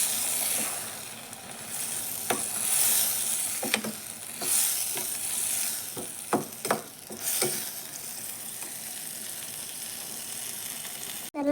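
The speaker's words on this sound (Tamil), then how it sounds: "நல்லா கொதித்து எண்ணெய் பிரிஞ்சு வணங்கி வரட்டும்." Masala paste sizzles steadily in hot oil in a pan, with a spoon stirring and scraping at intervals, close and moderately loud.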